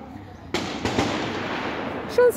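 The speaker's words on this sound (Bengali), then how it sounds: "শুনছেন ওনারা প্র্যাকটিস করতেছে ফায়ারিং।" Army firing practice near a cafe in Rangamati, Bangladesh: a few sharp gunshot cracks at irregular intervals, moderately distant, over outdoor background noise.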